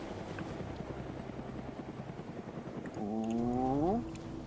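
Helicopter in an Arma 3 jungle firefight on Tanoa, a steady low rotor drone throughout with a rising engine whine swelling in the last second or so, loud and close.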